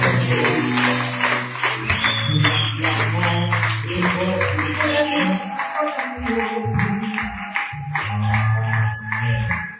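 A church congregation acclaims together, with steady rhythmic clapping under sung and shouted voices and a strong low musical drone, loud and continuous.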